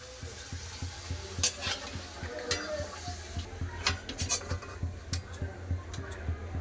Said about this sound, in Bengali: এভাবেই সব পাঁপড়গুলো ভেজে নেব